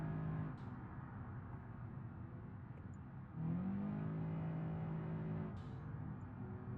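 Car engine in BeamNG.drive revving, a steady low engine drone with pitch steps as the revs change and a couple of brief sharp hissing bursts like turbo blow-off, moderately quiet with no voices.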